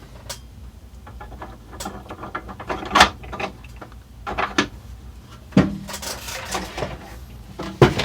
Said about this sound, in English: So we're just going to throw the dust cover back on.